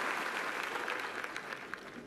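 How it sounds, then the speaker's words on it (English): Tennis crowd at the 2018 French Open breaking into steady applause with some cheering after a point, a dense continuous wash of clapping from a large stadium audience. "Crowd is enthusiastic."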